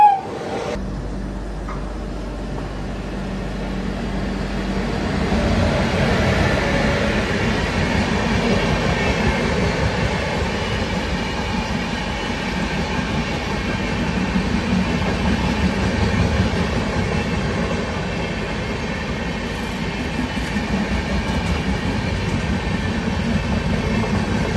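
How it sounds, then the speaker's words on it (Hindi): Train 12193, the Yesvantpur–Jabalpur Express, stands at platform 1 of Sirpur Kagaznagar station, giving a steady, loud rumble and roar of rail cars that stays continuous throughout, with no talking. "अपनी ट्रेन आई है यहाँ की यशवंत मतलब सिरपुर कागज़ नगर के प्लेटफॉर्म नंबर 1 पे।"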